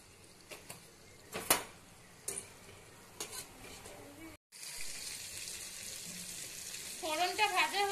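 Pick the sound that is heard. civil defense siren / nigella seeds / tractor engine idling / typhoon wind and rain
nigella seeds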